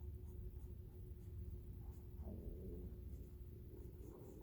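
A marker or pen writes a word on a thought map, making faint, soft scratching strokes over a low, steady background hum.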